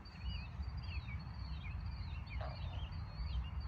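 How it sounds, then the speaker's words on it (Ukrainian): Birds sing outdoors on a lawn, giving faint, high chirping phrases that repeat every second or so over a low background rumble. "Чуєте цей спів? Пташок."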